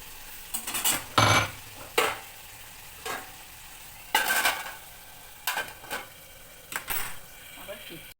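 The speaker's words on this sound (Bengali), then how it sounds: "একটু ঢাকা দেবো" A lid goes onto a cooking pan holding cauliflower, potato and katla fish in hot oil, making several sharp metallic clanks and clatters over a soft background sizzle, with some talking.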